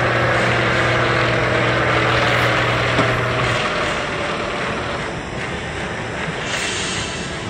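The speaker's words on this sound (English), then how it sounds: "When 13-year-old Brian Robinson is on a plane traveling to visit his father" A small airplane in flight drones with a steady propeller engine roar, a low sustained tone fading partway through while broad rushing wind noise continues, loud and unbroken.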